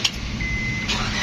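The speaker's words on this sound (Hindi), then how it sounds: "ये गाड़ी स्टार्ट की हमने" A 2004 Honda CF car engine starting and idling close by, a steady low rumble that holds evenly for the whole short stretch, with a faint high whine above it.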